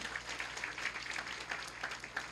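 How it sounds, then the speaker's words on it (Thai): Audience clapping at a Giffarine business seminar in Thailand, steady crowd applause heard fairly faint and distant, continuous and even for the whole stretch without any voices. "ปรบมือดังๆให้กับกิฟฟอรีนสักครั้งหนึ่งครับ"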